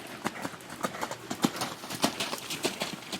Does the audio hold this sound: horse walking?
yes